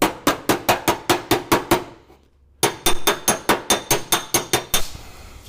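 A body hammer slaps a dent out of a car panel held on a dolly: a fast, even run of sharp metallic whacks, a short pause, then another quick burst of loud, ringing strikes, close and clear with no talking.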